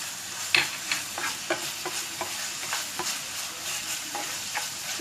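Green chilies and chopped long beans stir-frying in a pan for Chinese-style fried rice on lowered heat, a steady sizzle broken by repeated scraping strokes of a spatula, close and moderately loud, with no talk.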